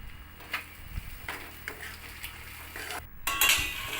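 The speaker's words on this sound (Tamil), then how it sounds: "நல்லா மசாலாலாம் நல்லா பரட்டி விட்டுக்கலாங்க." Boiled egg pieces tossed in masala in a pan with cold-pressed oil, a spoon scraping and clinking against the metal in irregular strokes, close and fairly quiet with a brief louder clatter toward the end.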